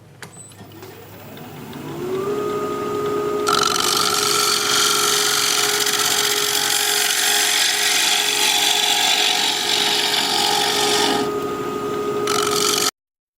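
An oak bowl spins on a wood lathe while a turning tool cuts into the wood. A steady motor hum sits under a continuous scraping, hissing cut, close and loud, with no voices.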